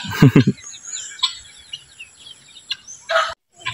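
Farm-raised chickens out on grass range, a few short clucks and calls in quick bursts near the start and end, with quieter scattered bird sounds between.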